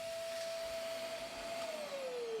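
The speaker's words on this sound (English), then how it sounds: "So let's grab my ash vacuum and go ahead and start sweeping out the soot and the creosote" An ash vacuum sucks soot and creosote from the bottom of a chimney, a steady, loud motor whine with a constant tone that drops slightly in pitch near the end, heard alone.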